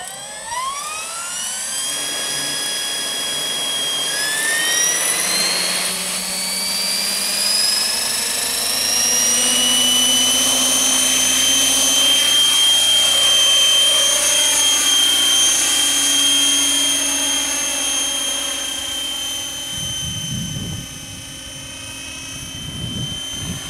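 Electric 500-size RC model helicopter spinning up from rest, a rising high-pitched motor whine climbing steadily to a sustained loud whir with rotor hum, running alone and close.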